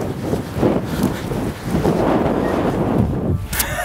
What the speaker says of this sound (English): It's quite windy here now.